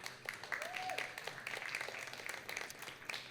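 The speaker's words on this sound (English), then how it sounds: "So I just want to give a round of applause in commemoration for that." Scattered audience applause at a Boston poetry reading celebrating Pride and Juneteenth, moderately quiet and steady, with a voice briefly heard under the clapping.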